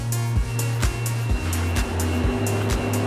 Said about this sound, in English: The sound you can hear is machines moving parcels around